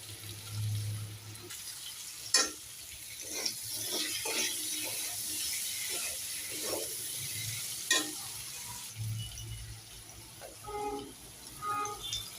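Spices stirred through potatoes frying in a home kitchen pan, with a steady close sizzle, scraping spoon strokes and sharp clinks against the pan over roughly twelve seconds, no voices.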